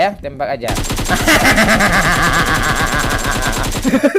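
Rapid automatic gunfire from the mobile battle-royale game PUBG Mobile, a dense, loud burst of rattling shots that runs almost without pause for several seconds, with a brief quieter moment at the start.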